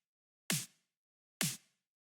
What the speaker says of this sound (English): So this clap, or this snare here, sounds like this.